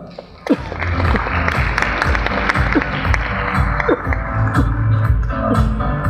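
Audience applause at a stage event welcomes a speaker, a steady wash of clapping with a few sharper claps standing out, fairly close and loud.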